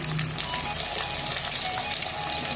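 Keema cooks in a pan over a medium-low flame, a continuous moderate sizzle and crackle heard close and alone for a couple of seconds.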